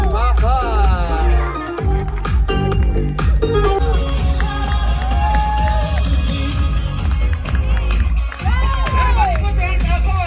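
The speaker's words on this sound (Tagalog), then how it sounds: "bigyan ng masigabong palakpakan at malakas na sigawan!" A loud crowd cheers, whoops and shouts continuously for newlyweds Gaudensia and Beverly at their wedding reception, with excited voices rising and falling throughout and a steady, dense roar of noise underneath.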